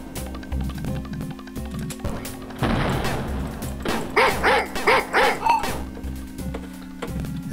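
Dogs barking in Wolfenstein 3D: a run of sharp, evenly spaced barks around the middle, set against a steady game soundtrack and a burst of noisy action.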